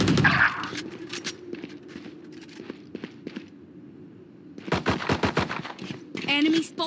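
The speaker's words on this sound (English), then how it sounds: "I shot something." Rapid bursts of gunfire in the Valorant shooter game, sharp repeated shots clustered at the start and again near the end, with quieter footsteps and game sounds between and brief voice chatter over the action.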